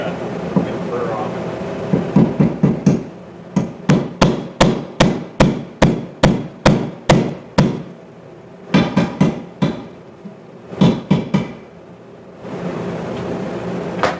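Sharp metal hammer strikes drive spring pins into a Contour pedal boat drive assembly, about twenty evenly spaced blows in quick runs with brief pauses, loud and close.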